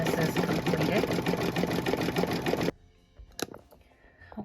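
An embroidery machine stitches out a satin-stitch Be Mine design by Kimberbell, a loud, steady rapid needle rhythm that stops suddenly partway through, followed by faint handling clicks and a brief knock.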